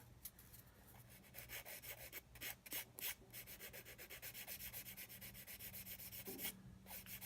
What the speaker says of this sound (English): I'm taking my Flory fine green sanding stick, and I'm just going to rub